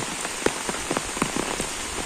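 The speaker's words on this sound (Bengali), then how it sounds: "প্রচুর পরিমাণে বৃষ্টি হইতেছে, অঝরে বৃষ্টি।" Heavy rain pours down steadily, with sharp drops striking a surface in irregular bursts over a dense, continuous hiss.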